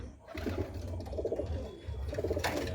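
Madrasi pigeons cooing inside a loft: soft, throaty, repeated coos come in several close, overlapping bursts, near and moderately loud over a faint room hum.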